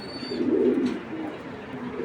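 A female racing pigeon coos in a low, rounded burst near the start, then softer murmuring continues against faint background noise.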